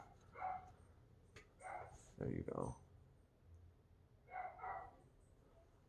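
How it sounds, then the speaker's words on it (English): Dogs bark in short bursts several times in the background of an indoor room, with a person speaking briefly in between. "Sorry about the dogs in the background."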